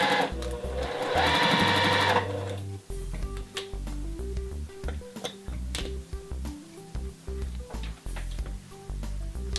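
Sewing machine chain piecing quilt block pieces: a loud steady whir of stitching for about two seconds, then quieter intermittent mechanical clicks and thumps as fabric is handled.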